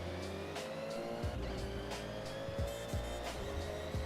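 A car engine drones steadily with a whining straight-cut gear note, rising and dropping through several shifts, loud and close with no talk.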